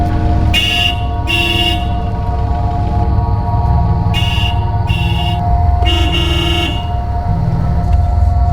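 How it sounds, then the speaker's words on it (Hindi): Several short car horn toots, two quick pairs then a longer honk, loud and close over a steady engine idle. "कब से हॉर्न बजा रहा हूँ, जल्दी नहीं आ सकता क्या?"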